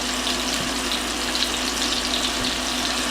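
A kitchen tap runs steadily at close range as shallot is rinsed, a continuous hissing splash with no pauses and no voices.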